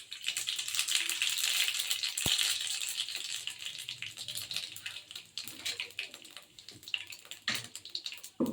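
Mustard seeds, urad dal and cumin crackle and sizzle in hot oil, a dense continuous hiss with scattered pops and one sharp click, fairly close and steady throughout.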